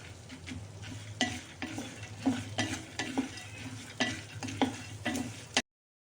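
Cumin seeds and garlic dry-roast in a pan for a Solapur-style crunchy chutney. A steady, close sizzle runs under repeated scraping strokes of a spoon stirring, with no voices.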